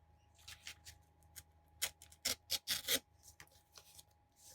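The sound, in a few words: cutting out paper with scissors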